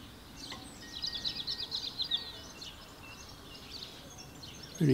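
Birds singing outdoors near St Mary's church in the Surrey Hills, a faint run of quick high chirps early on over quiet background ambience, fairly distant.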